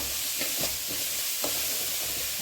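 A spoon scrapes and stirs a spice paste around a hot pan of oil, with soft sizzling under a few distinct scraping strokes, fairly quiet and close, for a jackfruit dish.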